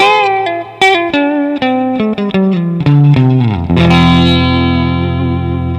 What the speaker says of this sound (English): Sorry about all that distortion.